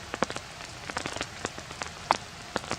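Rain pattering on a tarp shelter at a misty, overcast winter campsite, scattered drops tapping near and soft, with a few sharper splats standing out among the irregular patter.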